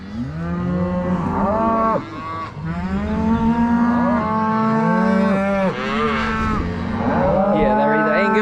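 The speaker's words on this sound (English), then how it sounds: "These are all the calves." Angus Hereford calves in the yards mooing and bawling, several overlapping calls from close by and loud, continuous with no real gaps.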